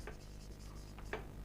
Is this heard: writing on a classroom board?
yes